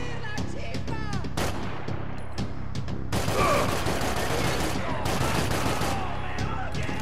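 Heavy machine gun fire in the video game Max Payne 3, sustained loud bursts of rapid shots with booming impacts, a voice talking briefly under the din.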